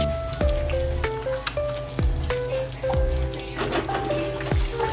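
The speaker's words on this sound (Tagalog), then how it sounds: "Kaya magluto na tayo ng itlog, guys." An egg frying in a hot pan after a pinch of salt, a loud, steady sizzle and crackle with a few scattered taps, close and alone without talk.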